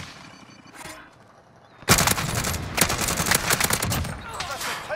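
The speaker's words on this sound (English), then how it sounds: "They're just shooting through the damn tent." Automatic gunfire in Call of Duty Warzone on Rebirth Island, with rounds tearing through a tent. The shooting breaks out suddenly after a quiet stretch, then carries on as loud, rapid bursts of repeated shots to the end.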